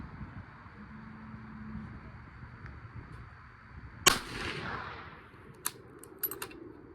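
A single rifle shot from a .358 Winchester at an outdoor range: one sharp crack that rolls off in a short echo, followed by a few faint clicks, against otherwise quiet surroundings.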